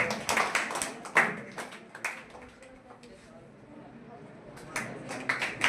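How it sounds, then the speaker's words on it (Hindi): Loud, ragged clapping from a small group honouring a student at a coaching centre, dense bursts at the start and end with a quieter stretch in between, with voices talking beneath. "शाबाश, जोरदार ताली हुई"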